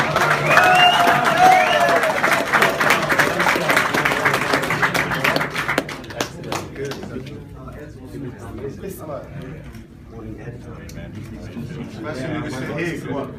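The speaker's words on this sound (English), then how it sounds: "Guys, big round of applause for Papa Onecoin!" Audience applause and cheering for Papa Onecoin at a Onecoin/Onelife presentation, a dense burst of clapping with shouts that fades after about six seconds into scattered claps and crowd murmur with some talking.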